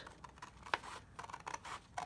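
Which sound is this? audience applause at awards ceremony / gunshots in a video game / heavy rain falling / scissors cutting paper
scissors cutting paper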